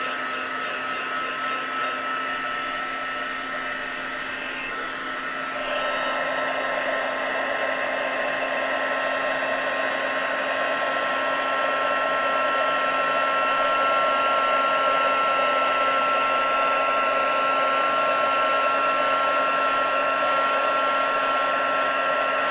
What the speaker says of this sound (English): make sure that your embossing gun is good and hot